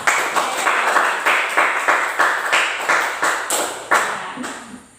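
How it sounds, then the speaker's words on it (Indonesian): A small class claps in a steady, rhythmic pattern for several seconds, loud and close, then the clapping trails off. "Tepuk tangan untuk kalian semua."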